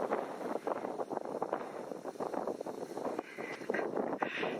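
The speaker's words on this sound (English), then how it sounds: "It's always windy up here." Wind gusts buffet the microphone on a grassy hilltop in Colombia, a continuous rough rumbling roar that swells and dips throughout, with no talk.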